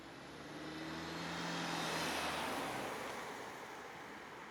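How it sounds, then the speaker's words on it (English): A single car passing by, a soft whoosh that rises to a peak midway and fades away, fairly faint and distant with no talk. "And the car just came back again."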